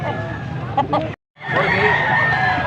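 Chickens and roosters cluck and call at a busy poultry market in Angeles, Pampanga, amid crowd babble and people talking nearby, with a brief silent cut in the middle.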